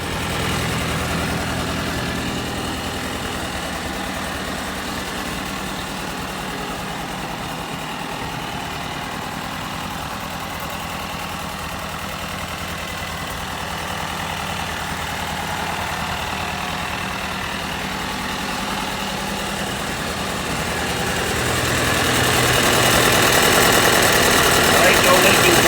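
A military M151A2 jeep engine idles steadily with a low rumble and slight knock, swelling a little louder toward the end, with a voice talking over it.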